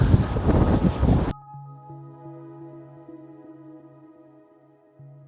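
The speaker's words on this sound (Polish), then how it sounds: "wiatr jest niesamowity. Włosy po prostu odfruwają." Strong wind on Fuerteventura roars and buffets the microphone for about a second, then cuts away to a quiet, steady low hum.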